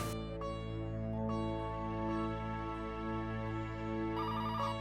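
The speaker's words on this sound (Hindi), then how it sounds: "देख तो बेटा किसका फोन है।" A telephone rings with a steady electronic tone pattern, continuous and moderately loud, with no voices.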